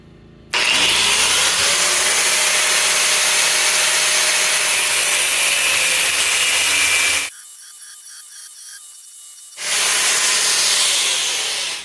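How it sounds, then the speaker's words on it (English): Steel for a forged boar spear blade is cut with a loud, continuous harsh grinding-saw rasp, close up, which stops abruptly for a couple of seconds of quieter rattling before resuming. "We're just going to go ahead and cut slots about every ½ inch"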